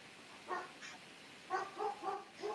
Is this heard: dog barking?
yes